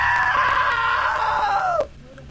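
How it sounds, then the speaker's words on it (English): A long, loud scream in the video game What Remains of Edith Finch, a sustained high wail that slides downward and cuts off abruptly, leaving quiet room tone. "Now that was a great scream."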